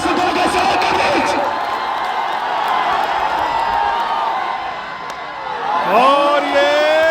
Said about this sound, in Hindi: तालियों के शोर के बीच, दर्शकों के शोर के बीच